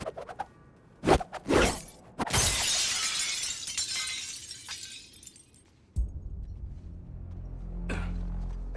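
Glass shatters in the video game Suicide Squad: Kill the Justice League: sharp impacts, then a loud, bright crash of breaking panes with scattering shards that fades, followed by a low rumble and a later smaller clink.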